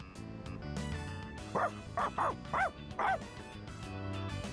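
The dog Koromaru in Persona 3 Reload gives four or five quick, bright barks in a row over soft background music.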